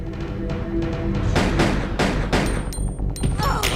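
Gunfire in the video game Resident Evil 2 rings out as a rapid series of sharp, loud shots with echoing decay, some crackling bursts mixed in.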